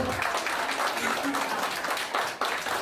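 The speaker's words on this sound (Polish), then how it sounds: "bardzo duże brawa panowie dla pań, a panie dla panów oczywiście" Applause at a Women's Day celebration, a steady wash of many hands clapping throughout, with voices mixed into the crowd noise.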